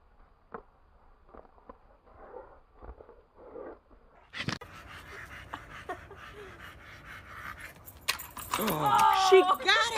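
A Doberman panting and whimpering nearby with soft breathy pants and small whines, joined by jangling metallic clinks, with people talking intermittently.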